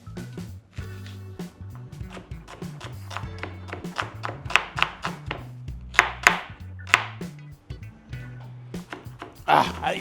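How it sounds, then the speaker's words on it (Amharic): Onions being diced with a knife on a cutting board, a rapid series of sharp close chops in an uneven rhythm, with a voice speaking underneath throughout. "ሽንኩርቱን በዳይስ እንከትፈዋለን"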